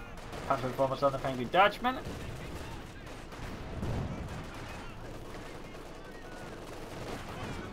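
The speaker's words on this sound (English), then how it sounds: "Field gun shoots, whiffs." A field gun firing in the strategy game Company of Heroes 2, heard as a run of rapid, rumbling booms early on and then a dull thud, with a commentator talking over the battle noise.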